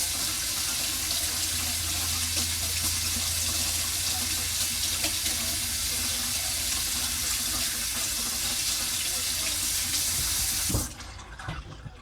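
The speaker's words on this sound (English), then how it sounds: "Wash my hands before I open all this" A tap runs steadily and loudly into a sink while hands are washed before handling a pork roast, splashing continuously for about eleven seconds before the water shuts off abruptly.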